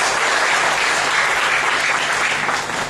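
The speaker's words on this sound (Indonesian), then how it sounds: "Berikan lagi tepuk tangan bagi Tuhan Yesus." Dense, close audience clapping fills a seminar hall in Timor-Leste during a church gathering, a steady roar of hands that fades slightly at the end.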